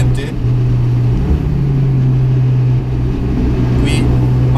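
Dallara Stradale sports car running steadily on a race track, a loud continuous engine drone with a sustained low tone that shifts pitch partway through, heard from close up.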